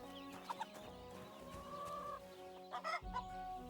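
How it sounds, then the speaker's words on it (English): Chickens cluck in a game's village setting in Kingdom Come: Deliverance 2, with a few sharp calls early on, a longer drawn-out cackle in the middle and a brief louder burst near the end over steady game ambience. "Chickens!"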